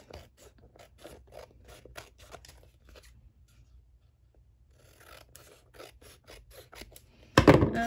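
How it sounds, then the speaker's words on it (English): Scissors snip through tape for a handmade mini album in a string of quick, close, crisp cuts. There is a short pause, then more snips, and a louder rustle of the workpiece at the end. No one speaks. "I am just simply cutting off with scissors"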